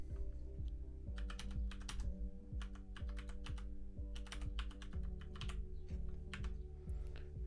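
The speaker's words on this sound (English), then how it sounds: "I'm typing it in." A password is typed on a computer keyboard, with quiet, quick, irregular keystroke clicks in short bursts, heard alone and close.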